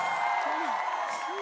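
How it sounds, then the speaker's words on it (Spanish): A studio audience on the Mexican comedy show Me Caigo de Risa applauds and cheers in a steady, dense wash of clapping and whoops lasting the whole moment, with no speech over it. "Un aplauso para Memo."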